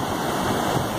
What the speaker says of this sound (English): we've got some really nice waves coming in off a full Pacific fetch